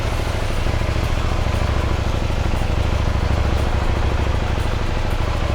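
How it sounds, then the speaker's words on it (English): A KTM 790 Duke motorcycle engine idles steadily and close up, a continuous low rumble with an even throb and no distinct start. "put ignition in, key in, make sure it starts up"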